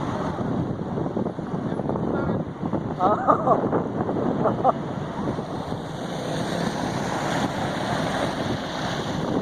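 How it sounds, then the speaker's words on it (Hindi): Large volume of water pouring into the Gujjar Nala drain in Karachi, a continuous broad rushing roar with wind buffeting the microphone and faint voices mixed in throughout. "हजारों गैलन लाखों गैलन पानी जा रहा है उसके अंदर"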